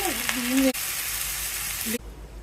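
Water is poured into a hot pan of soaked, lightly fried rice, a loud steady sizzle and hiss that cuts off abruptly, with a voice talking briefly at the start.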